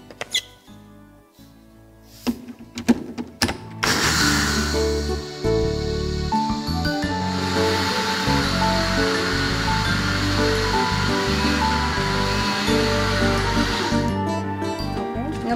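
A kitchen blender grinds one cup of dry sesame seeds with no water added, for Kamut bread dough. A few knocks and clicks come first, then a loud, steady, close-up whirring roar runs on without a break.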